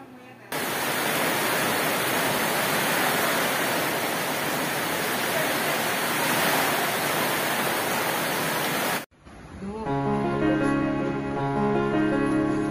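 Floodwater rushes during a calamity as rising water surges ahead, a loud, steady broadband roar for about nine seconds that cuts off abruptly, followed by a tonal, music-like passage.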